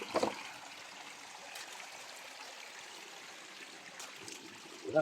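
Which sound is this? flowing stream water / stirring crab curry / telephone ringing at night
flowing stream water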